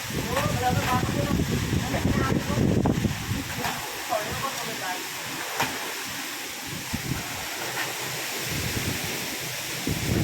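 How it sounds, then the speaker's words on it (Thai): Strong wind gusts roar and buffet the microphone outdoors at a construction site where cement is being poured for a young elephant's shelter before rain arrives, a steady broadband rush under occasional speech. "โอ้ลมก็แรงนะครับ"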